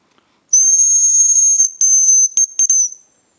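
Hazel grouse whistling calls out in autumn forest: a long, thin, high whistle held steadily for over a second, then several shorter broken whistles in quick succession, clear and fairly close with no other sound.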